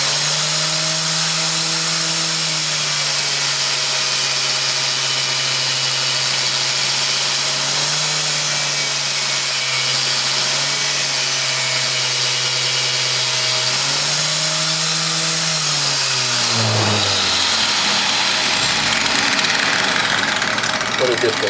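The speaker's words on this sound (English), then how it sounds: "Okay, I'll show you the wire wheel first. I'm gonna brush this rusty piece of metal." A homemade tool with a wire wheel brushing a very rusty piece of metal, a loud steady motor drone with a harsh abrasive hiss, pitch dipping under load and winding down at the end.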